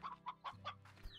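Chickens and a rooster in the video game Slime Rancher give a few short, close clucks in quick succession over a soft low background hum.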